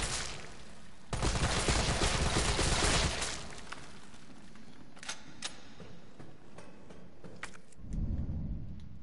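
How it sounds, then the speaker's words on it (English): Assault rifle fire in the video game Resident Evil 3: a loud sustained burst of automatic shots early on, then scattered single reports and clicks, with another heavy burst near the end. "Looks like the assault rifle puts him down pretty good."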